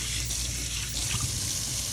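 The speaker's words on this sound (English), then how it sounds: "And now we're going to rinse, and make sure you rinse into the fingernails so it washes away all the debris" Tap water runs steadily into a sink while hands are rinsed during a handwashing demonstration, a constant close splashing hiss with no talk.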